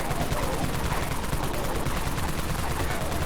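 Unlimited Wraith Cannon fired nonstop in the Dead Frontier video game, a dense rapid-fire stream of heavy shots lasting throughout at steady loudness, with no pauses.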